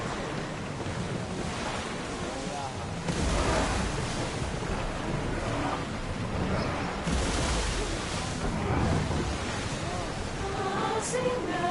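Stormy sea waves and gusting wind while sailing in Assassin's Creed Odyssey, a loud continuous roar of surf and wind noise that swells in heavy surges, with no pause.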